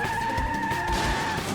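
Cartoon vehicle skidding with failed brakes at a red signal, a sustained tonal screech over rumbling, loud and continuous without talk.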